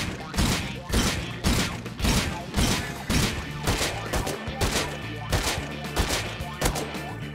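Turrets in the video game Rust fire in repeated loud bursts, about eleven regular volleys in steady rhythm with a mechanical clatter underneath.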